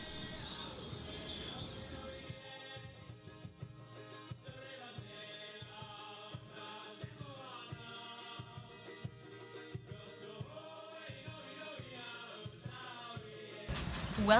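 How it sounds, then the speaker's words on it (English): Morning birdsong on the island of Tahiti in French Polynesia: doves coo repeatedly and soft chirps and calls drift through at a moderate distance over a faint, steady background, with a louder rustle at the very end. "We awoke the next morning to the sound of birds in a serene paradise."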